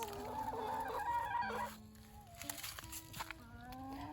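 Chickens cluck and squawk nearby in short, uneven bursts, with one louder call early on followed by scattered softer clucks.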